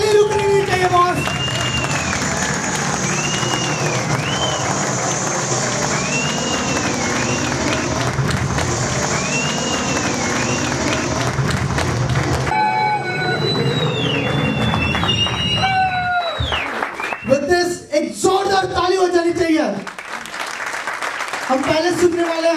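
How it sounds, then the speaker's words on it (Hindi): Steady crowd applause at a live stage event, dense clapping with whistles and cheers on top, loud for most of the stretch before thinning out near the end as a voice briefly cuts in. "ताली रुकनी नहीं चाहिए बॉस"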